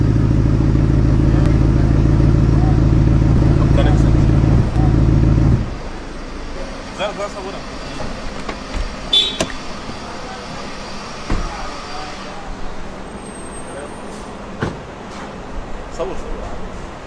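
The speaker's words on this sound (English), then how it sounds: "Koenigsegg Regera spotted at a gas station in Kuwait." A Koenigsegg Regera supercar at a gas station in Kuwait: a loud, steady engine drone dominates the opening seconds, then cuts off abruptly, leaving quieter forecourt clatter, scattered knocks and faint background activity.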